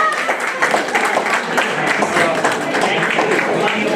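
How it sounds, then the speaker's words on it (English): A crowd applauding steadily, dense overlapping claps that hold at an even level throughout. "And so we want to applaud you."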